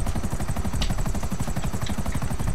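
Loud, continuous helicopter rotor chop with rapid rhythmic blade thumping and a whining engine in GTA RP, an open-world video game, heard alone without any talk.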